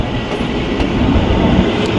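Kalka–Shimla toy train running just after leaving Taradevi station, a steady loud rumble and rattle of wagons on the narrow-gauge track with faint clickety-clack, continuous with no voices.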